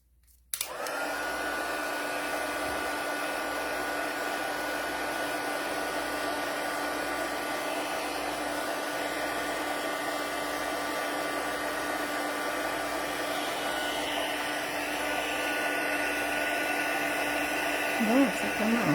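A heat gun blows hot air steadily over handmade card work for embossing, a loud continuous whooshing drone with a whine that holds the whole time, close to the mic.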